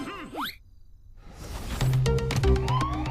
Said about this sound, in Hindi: ये तो सायरन बज गया, पुलिस आती ही होगी।